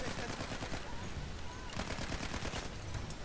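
Gunfire in a Battlefield 1 multiplayer match: dense, rapid volleys of loud shots and overlapping bursts fill the whole stretch without a break, with a brief voice mixed in among the shooting.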